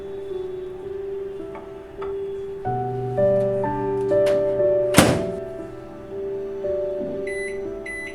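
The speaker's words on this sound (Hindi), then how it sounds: "2 मिनट के लिए हम केक को माइक्रोवेव करेंगे।" A microwave oven heats a chocolate mug cake made from Parle biscuits with walnuts, giving a steady low hum under a soft tonal background, broken by a few muffled thunks and one sharp clack near the middle.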